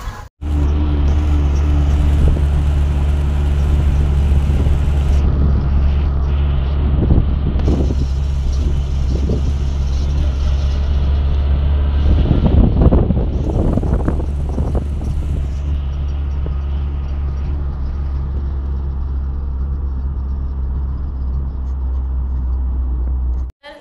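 An auto rickshaw engine runs steadily while the vehicle drives, giving a constant low, loud rumble with wind buffeting the microphone, and road noise swells briefly in a few spots.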